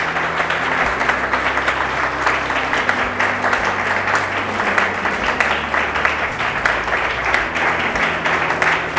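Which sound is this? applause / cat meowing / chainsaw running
applause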